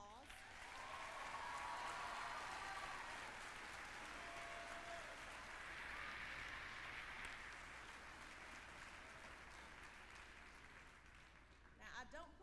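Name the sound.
audience applause for eighth grade students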